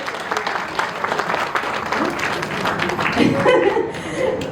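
Audience at a book launch during the Sharjah International Book Fair applauds to welcome author Geetha Mohan on stage, a dense burst of clapping with light laughter and a voice speaking over it near the end.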